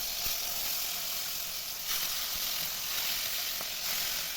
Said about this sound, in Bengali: বাকিগুলোকেও আমি ভেজে নেব।